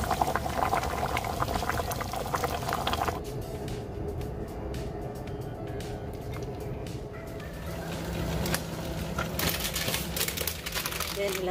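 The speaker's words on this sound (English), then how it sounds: "Ayan, kumukulo na." Water at a rolling boil in a pot on the stove, a steady bubbling hiss meant for cooking chicken breast, with brief bursts of louder sputtering and people talking nearby.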